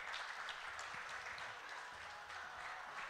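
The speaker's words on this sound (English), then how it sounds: "let's clap for them one more time" An audience at a Hult Prize event claps together in sustained, even applause, heard at a distance and fairly faint, with no clear talk over it.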